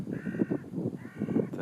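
A crow gives two drawn-out, harsh caws separated by a short pause, fairly close and clear.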